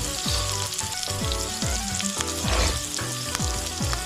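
Carrot and curry leaves sizzling in a hot pan for Bombay rava upma, a loud, steady frying hiss with rhythmic tones running beneath it and no talking.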